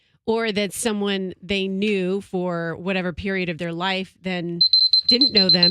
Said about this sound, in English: That was my alarm reminding me of the contest.